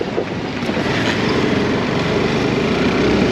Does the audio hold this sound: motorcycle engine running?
yes